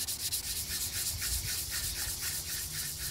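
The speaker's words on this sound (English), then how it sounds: "how the sandpaper will suddenly take a different tone" Rhythmic back-and-forth rasping of sandpaper wet sanding paint on a Buell XB9SX motorcycle tank cover, close and steady, each stroke a soft wet hiss repeating several times.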